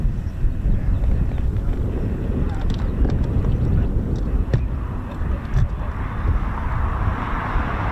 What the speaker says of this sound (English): the lovely sight and sounds of the TE311 Mark 16 Spitfire